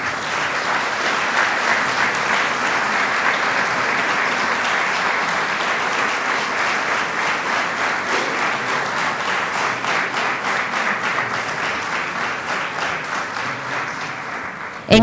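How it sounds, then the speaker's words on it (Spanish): Long, even round of audience applause at a student award ceremony, dense clapping from a sizable crowd that holds steady throughout and ends with a sharp final clap. "Un aplauso a ella, por favor."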